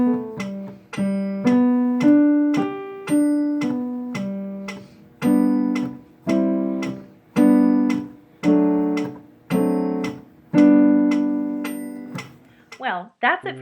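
A chord progression moving from the four chord to the five, then the five-seven, resolving to the tonic, played as struck, ringing chords in a steady pulse, close and clear, ending on a final held chord.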